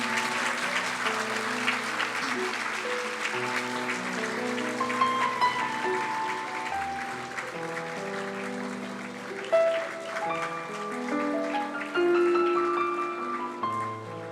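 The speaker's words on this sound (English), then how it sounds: "Please welcome them with a huge round of applause." Sustained applause greets dignitaries at a leadership talk with India's Election Commissioner, a steady crowd patter blended with prominent instrumental music that carries melodic lines over the clapping throughout.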